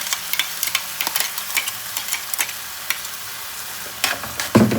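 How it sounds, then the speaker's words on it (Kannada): Ground tomato goes into onions already fried golden brown for pav bhaji, giving a continuous sizzle with clinks of a spoon stirring the pan and a louder scrape and splash near the end. "ಆಮೇಲೆ ಈಗ ನಾನು ಅರ್ಧ ಟೊಮ್ಯಾಟೊ ರುಬ್ಬಿಟ್ಕೊಂಡಿದ್ದೆ. ಸೊ ಅದು ಹಾಕ್ತಾ ಇದ್ದೀನಿ"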